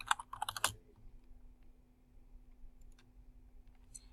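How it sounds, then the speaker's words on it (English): Quick burst of computer keyboard typing, a rapid cluster of crisp key clicks lasting under a second, followed by a quiet room with a steady low hum and a few faint scattered clicks. "And then I can start typing."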